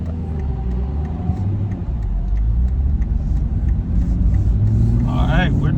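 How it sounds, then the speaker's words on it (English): An Aston Martin drives along a road in Maine, its engine giving a steady low rumble and road noise from inside the cabin, while people talk over it. "we're driving in the Aston Martin"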